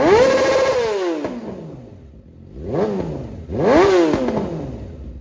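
A 2024 Yamaha R6 sport motorcycle engine revs hard three times, each sharp rise in pitch falling away between bursts, loud and close with no talking.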